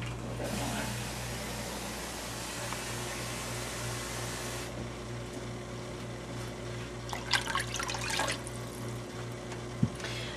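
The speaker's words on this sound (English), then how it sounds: "And then to get it a little clearer, I'm going to put some water in it." Water pouring into a pan that already holds white wine, a steady trickling fill under a constant hum of a fan or extractor, with a few clinks near the end.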